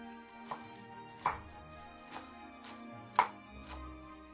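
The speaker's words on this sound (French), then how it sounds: "J'émince aussi 2 cébettes." Knife finely slicing spring onions on a cutting board, six sharp clean chops spaced about half a second to a second apart, close and fairly quiet, with no talk.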